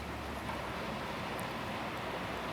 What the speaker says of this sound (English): now you can hear in the background the waves sort of sucking that water off the shore and off the reef